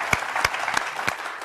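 Studio audience applause at a Tamil TV comedy show, with a dense bed of clapping and a few sharper, louder claps standing out, steady and close throughout the short burst.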